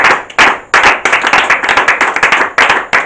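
A congregation at a bilingual English and French church service claps along in a steady rhythm, loud close bursts of many hands settling into a quick repeated beat with no talking.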